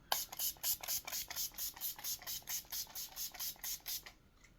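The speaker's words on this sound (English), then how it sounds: "Use a little spray, a little spritz." A rapid series of about fourteen short, soft spritzes from a makeup setting spray bottle, pumped in quick, even rhythm close by, with no talking.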